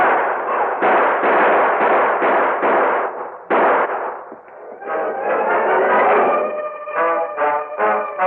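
A radio-drama shootout with a rapid volley of sharp gunshots, loud and close, in quick irregular bursts that come one after another, followed by a short run of ringing, tonal hits near the end.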